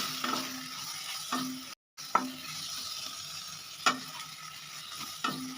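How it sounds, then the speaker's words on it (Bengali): Tomato mixture cooked with chopped coriander and curry leaves being stirred in a pan, a soft low sizzle broken by several separate scrapes and taps of a spoon, faint and close, with a short gap of silence. "কুচানো ধনে পাতা, কুচানো কারি পাতা দিয়ে আবারও ভালোভাবে মিক্স করে নিচ্ছি"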